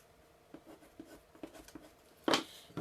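A bone folder creases paper for a gift bag: several soft, quiet rubbing strokes in an uneven rhythm, then one sharper, louder swipe near the end, with no talk.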